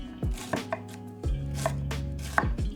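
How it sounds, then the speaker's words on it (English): Knife making vertical cuts through a fennel bulb on a cutting board, several crisp chops in an uneven rhythm, close and clear with no talking. "I'm making vertical cuts"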